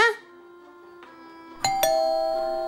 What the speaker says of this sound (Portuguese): Ué, campainha?